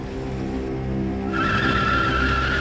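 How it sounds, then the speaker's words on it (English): A Rover-based car with a 27-litre V12 spins its wheels, and a loud, sustained tyre squeal rises over the deep engine rumble partway through, with no talking. "Wheel spin, a lot."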